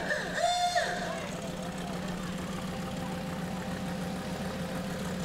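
A small dune-buggy-style kit car with open headers idling at a parade, a steady low rumbling engine under crowd noise, with a brief whistle-like tone and voices early on.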